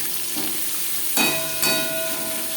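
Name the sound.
onions frying with tempering spices in a pan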